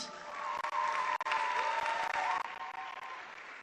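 Audience at a Congolese ceremony applauds steadily, a dense wash of clapping that holds for several seconds.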